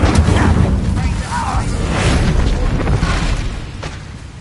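A fire spell is cast in Hogwarts Legacy, a sustained roaring burst with booming rumble that holds for several seconds amid battle noise, with voices and shouted incantations over it.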